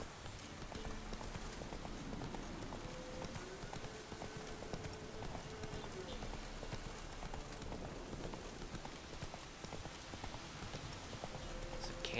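In The Witcher video game, a horse gallops with a steady, quick clip-clop of hooves at moderate volume, set against a soft, continuous ambient wash.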